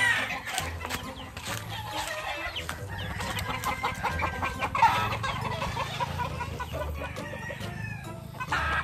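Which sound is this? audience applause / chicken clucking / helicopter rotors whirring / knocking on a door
chicken clucking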